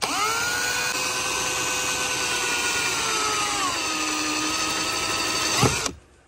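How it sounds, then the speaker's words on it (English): Cordless drill driving a self-tapping screw into bare metal on a Ford Bronco for a trailer wiring ground, a steady close whine that slows and drops in pitch near the end, then a short burst and stop. "I'm just going to go ahead and take the self-tapping screw."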